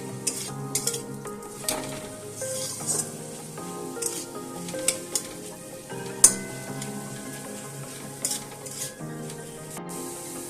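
Steamed banana-stem mixture with sugar being stirred in a pan, a soft frying sizzle broken by irregular scraping and clinks of a spoon against the metal, close and quiet, no talk.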